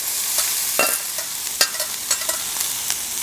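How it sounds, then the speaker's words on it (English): Vegetables stir-fry in olive oil in a pan over an off-grid cooking setup, with a steady close sizzle broken by several sharp scrapes and clacks of the stirring utensil. "add a little bit more olive oil. And we're going to stir fry the veggies."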